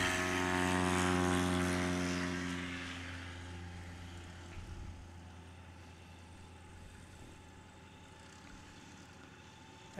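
Aviat Husky light propeller aircraft on its takeoff roll at a Swamp STOL practice in Jennings, Louisiana: a loud, steady engine-and-propeller drone that peaks early, then fades gradually as the plane moves away.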